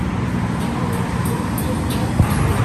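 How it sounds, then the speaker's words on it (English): Loud trucks rumble past on a roadway near a spot where a straight-piped BMW M4 is being worked on, giving a steady, heavy traffic roar throughout with a brief bump near the end. "All I hear is loud trucks passing by."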